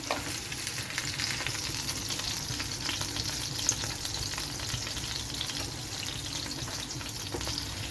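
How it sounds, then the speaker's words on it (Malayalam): Chicken pieces fry in a pan for a chicken supreme dinner, giving a steady, dense sizzle that holds at an even level throughout with no talking. "ഇനി നമുക്കിതൊന്ന് ഫ്രൈ ആയി വരട്ടെ"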